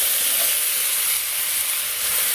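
Leafy greens, water spinach leaves among them, hit hot white oil with whole cumin in a wok, giving a loud, continuous bright sizzle up close with no one speaking.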